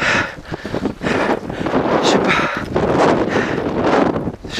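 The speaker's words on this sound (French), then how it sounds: "Le temps est abominable, c'est de l'orage, de la neige, du vent." Strong wind roars and buffets the microphone without pause in a mountain snowstorm at about 4400 metres, loud gusts surging and easing throughout.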